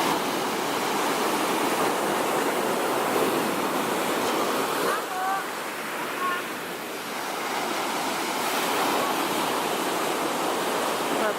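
Waves wash onto the beach at Porto in a steady, broad rush of surf, with a brief faint chirp in the middle.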